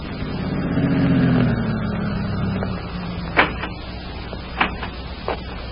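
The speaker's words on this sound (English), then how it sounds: "2 men drove up and got out of their car" A radio drama sound effect of a car driving up: a low engine hum swells and fades, then sharp car door clicks and slams follow one after another, moderately close.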